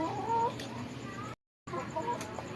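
Heritage chickens clucking nearby, soft repeated clucks and murmurs over a light background, broken by a brief dead-silent gap.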